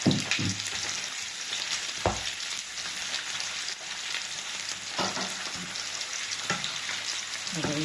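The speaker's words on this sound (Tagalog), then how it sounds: "Prito-prito lang po muna natin." Steady loud sizzling of chicken liver frying in a hot pan, with occasional clinks and scrapes of stirring.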